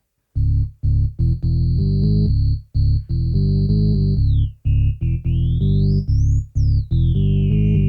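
A deep synth bass drones in choppy bursts while a pure sine tone sits above it, then glides down and sweeps up in a rising, wavering arc.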